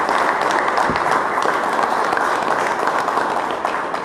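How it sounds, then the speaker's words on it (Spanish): An audience at a CGT union meeting gives steady, dense applause filling a hall, continuous many-handed clapping at an even level without any speech over it. "Así que un aplauso para ellos."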